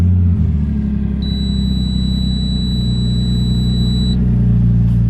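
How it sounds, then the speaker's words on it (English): Nissan R33 Skyline fitted with HKS parts, its engine catching with a brief crank and then settling into a loud, steady, low idle rumble that runs evenly to the end. "Right, we'll start the car real quick."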